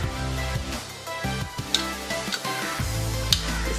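Cucumber juice with squeezed lemon and salt being stirred in a bowl, giving soft, repeated clinks and liquid swirling sounds at close range, with no talking.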